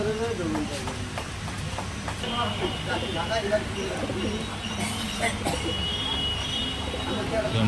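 Madras pigeons cooing at the Garia pigeon market, low repeated coos mixed into a busy crowd with people talking throughout, and a passing train rumbling in the background.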